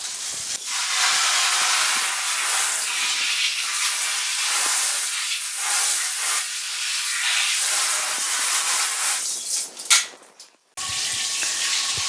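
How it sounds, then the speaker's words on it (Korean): Water is sprayed onto a DeWalt DWST14825 parts organizer, giving a loud, steady, broadband hiss that runs for about ten seconds, wavers briefly, cuts out for a moment, then resumes. "이번에는 공구통을 뒤집지 않고 그냥 한번 물을 뿌려 보도록 하겠습니다"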